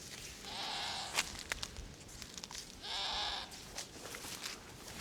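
Sheep bleat out on a farm while someone moves slowly toward them with a stick, two drawn-out calls a couple of seconds apart over steady outdoor wind and rustling.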